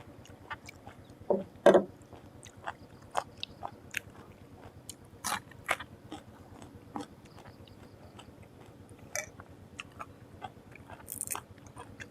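Someone bites and chews crunchy food, apparently a Thai raw beef dish, with scattered crisp crunches and bites spread irregularly over quiet background noise; no talking.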